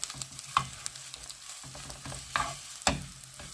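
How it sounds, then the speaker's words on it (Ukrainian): Rice with bay leaves and allspice being stirred in a pot, a soft continuous scraping and sizzle broken by a few sharper knocks of the spoon against the pot. "Можна додати лаврове листя і духмяний перчик. Це теж по бажанню. Все гарно змішуємо"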